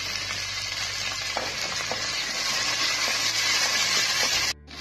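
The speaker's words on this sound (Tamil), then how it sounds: "இப்போ தக்காளி, கருவேப்பிலை, கொத்தமல்லி போட்டு நல்லா வதக்கிக்கலாம்." Onions, chillies, tomato, curry leaves and coriander are sautéed in a pan for chow chow sambar, producing a loud continuous sizzle with faint stirring knocks that stops abruptly near the end.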